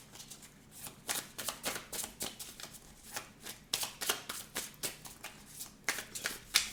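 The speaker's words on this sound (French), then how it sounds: "pour vous qui avez choisi le deuxième tas de cartes" Tarot cards shuffled by hand in a steady run of crisp, riffling bursts, fairly quiet and close, with no talking over them.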